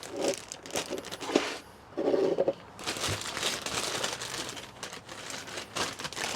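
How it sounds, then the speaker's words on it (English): A plastic bag holding sugar and an egg for chocolate brownies is sealed and crinkled by hand, close up, in a run of sharp rustling and crackling bursts with short pauses. "And we're going to close the bag up."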